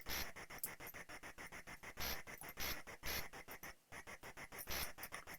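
Buzzing swarm of enemies in Dragon Spirit on the Amstrad CPC, like attacking bees: rapid, rasping chiptune pulses repeat in a fast, steady rhythm, loud and continuous, with one brief gap.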